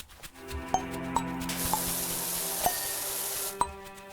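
A lavender ball is shaken, giving a soft, sustained rattling hiss with a few light clicking taps spaced through it, heard close and fairly quiet over a faint background hum.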